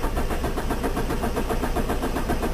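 Engine of a 1992 Talon that has no spark, cranking without catching: a steady, rapid, mid-pitched churning that goes on unbroken and fairly loud, with no voices.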